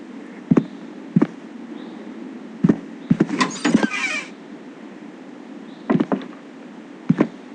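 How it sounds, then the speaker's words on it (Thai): Knocking on a door in the horror video game The Boied One: sharp, loud raps come in separate single hits and quick clusters, spaced by pauses, with a brief scraping rattle in the middle. "ใครมาเคาะประตูอีกเนาะ"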